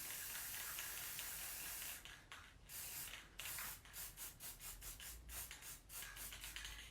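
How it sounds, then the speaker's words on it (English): Paint sprayed in a quick dusting over a stencil: a steady soft hiss that breaks into a series of short rhythmic puffs, fairly quiet and close, with no talking. "I'm just going to do a quick dusting with the stencil."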